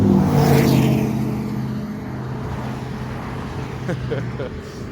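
A big truck rolls past on the street, its engine loud and close at first and then fading steadily as it moves away. Faint ambient clatter continues behind it.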